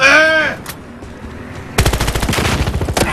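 Automatic gunfire in the video game Battlefield Hardline: after a brief voice and a quiet gap, a loud, rapid string of shots rattles steadily for over a second, close and dominant.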